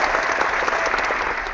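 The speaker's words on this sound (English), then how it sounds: "I don't know what the applause was for" Steady applause from a studio audience during a tech talk show, dense clapping held at an even level for the whole stretch with no voices over it.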